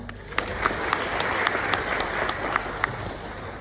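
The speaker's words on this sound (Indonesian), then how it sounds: "Boleh minta tepuk tangan?" An audience at a stand-up comedy show in Bandung applauds when asked to clap, a steady wash of many hands with some sharper individual claps popping out, moderately loud and continuous throughout.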